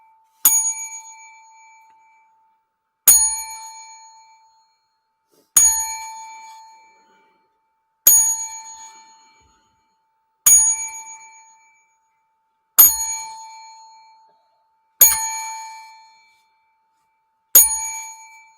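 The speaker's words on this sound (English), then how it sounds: "We pause for the bell of 10." Eight evenly spaced bell strikes, roughly every two and a half seconds, from a ten-bell salute honoring a sports legend, each ringing tone decaying before the next, loud and alone with no talk.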